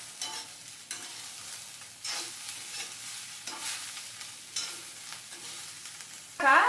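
Bitter gourd curry with salt and turmeric is stirred in a pan over a low sizzle, with about half a dozen distinct scraping strokes at an even pace and a louder clatter at the end.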